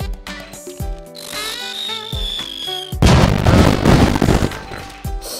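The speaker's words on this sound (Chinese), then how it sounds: "那我就给大家放一个正义烟花助助兴好" Fireworks set off in the video game Mini World: a rising whistle over game music, then a loud broadband burst of crackling explosions that fills the last few seconds.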